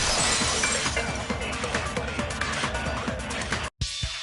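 A vase shatters in the Super Danganronpa 2 video game, a bright, dense crash of breaking ceramic that fills the clip with scattered shards before cutting briefly to silence and a short tail.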